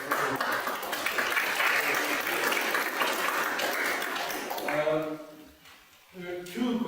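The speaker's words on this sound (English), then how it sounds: "I would clap." A church gathering at an annual parochial meeting breaks into warm applause, steady clapping for several seconds that fades out, then a voice begins speaking.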